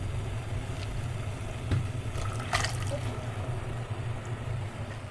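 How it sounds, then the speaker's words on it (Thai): Soaked rice noodles are blanched in a pot of water, heard as a soft, continuous watery bubbling and swirling with a few faint splashes and clinks, close and low in level. "ไปปุ้มก็จะเอาเส้นที่แช่ไว้นะคะ มาลวกนะคะ"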